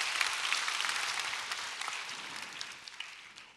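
An audience claps after a Seoul National University public science lecture on the James Webb Space Telescope, a dense, even wash of applause that slowly fades, with no talking.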